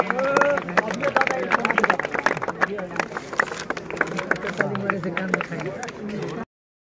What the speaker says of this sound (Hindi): ताली हो जाए।